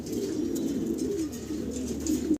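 Spanish fancy pigeons, a pair, coo steadily and continuously at close range, a low throaty murmur with no voices.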